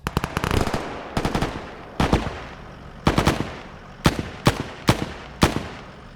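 Bursts of automatic gunfire in a Czech RP military game operation, loud and close, coming in about seven rapid volleys separated by short pauses, with no talking.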